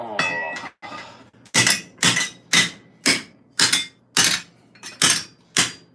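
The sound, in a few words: polished spherical hammer shaping metal armour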